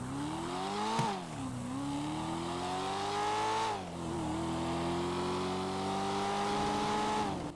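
A classic old car engine on a test drive, revving loudly and shifting through gears, with the pitch climbing and dropping sharply at each change, close and alone.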